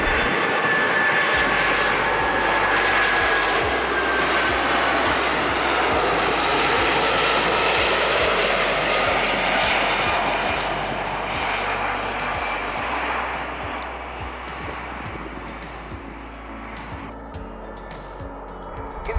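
An airliner on approach to runway 15 left at Incheon airport roars loudly and steadily overhead with a broad engine rumble and whine, then fades slightly toward the end, with no talking.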